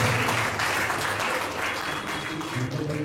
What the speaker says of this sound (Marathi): सर्वांनी टाळ्या वाजवून त्यांना अभिवादन करत आहे